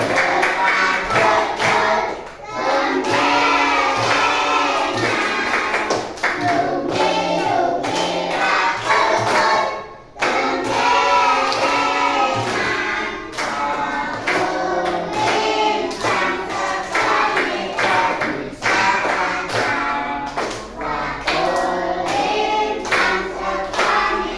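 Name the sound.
group clapping hands while singing Gundul-Gundul Pacul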